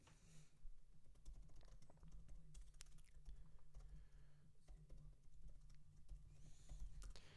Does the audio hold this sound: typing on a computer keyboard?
yes